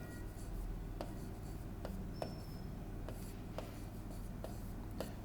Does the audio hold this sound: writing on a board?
yes